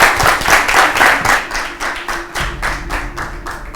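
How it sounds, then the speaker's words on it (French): Applause from an audience at a school quiz competition: dense, rhythmic hand clapping that continues steadily and fairly loudly from start to finish. "Applaudissez quand même."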